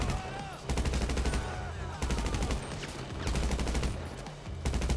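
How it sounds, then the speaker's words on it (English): Rapid automatic gunfire from a Special Carbine Mark II rifle in Grand Theft Auto, loud sustained bursts with brief pauses between them, layered over game sound. "I prefer this gun, special carbine Mark II"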